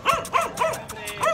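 Dogs bark in a quick series of four or five yaps and yips, loud and close, with no talking over them.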